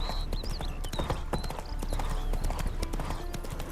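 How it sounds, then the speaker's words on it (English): Geralt's horse Roach in The Witcher 3: Wild Hunt, Hearts of Stone, clip-clops with steady hoofbeats and lets out short, high whinnies, spooked by ghosts, with faint game ambience. "Spooking my horse. Roach doesn't like ghosts."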